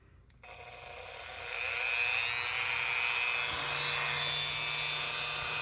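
A Dremel rotary tool polishes an old knife's bolster with gritty compound at low speed, a steady high-pitched whine with rubbing hiss that swells after the first second and holds loud and close.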